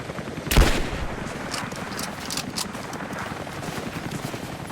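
A gun fires in Rise of the Tomb Raider: one loud, sharp shot, then a run of fainter repeated shots and clatter over continuous game background noise.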